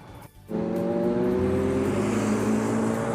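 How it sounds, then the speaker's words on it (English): Sports cars at a car show, including a Ferrari, a Cobra, Mercedes AMG Hammers and a Porsche, roar past up close after a brief lull, their engines holding a loud, steady drone with no talking. "Just got passed by Ferrari, a Cobra, some Mercedes AMG Hammers, Porsche."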